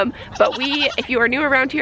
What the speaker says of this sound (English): so you might hear some goats and kids in the background